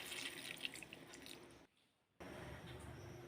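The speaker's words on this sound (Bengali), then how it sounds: "জল দিয়ে দিচ্ছি।" Water poured into a pan of chilli chicken with fried pakoras and green chillies makes a steady, soft, close splashing hiss that stops briefly midway and then resumes.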